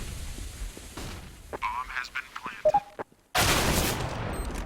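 Gunfire from the video game CS:GO crackles in scattered shots under a commentator's voice, then a loud burst of noise erupts in the final stretch.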